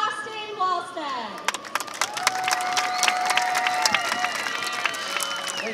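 An outdoor show crowd at a pier claps and cheers to welcome a performer, a dense patter of hand claps with whistles and whoops, sustained and lively.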